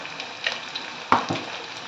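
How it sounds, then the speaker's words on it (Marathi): Onions fry softly in a pan in a home kitchen while a mutton curry is being cooked, giving a faint low sizzle with a few light clinks and taps and no talking. "कांदा आपला भाजला जातो आहे"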